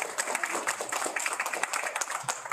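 Applause from the audience at a Guam proclamation signing for Sustainable September, an even patter of many hands clapping steadily, moderately loud, with no voices over it.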